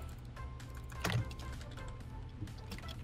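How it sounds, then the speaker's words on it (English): Rapid, fairly faint clicking of computer keys during a frantic Minecraft PvP match, a continuous patter of taps with a slightly louder burst near the middle and a low hum beneath. "as y'all can tell or hear by my keyboard, I'm sweating"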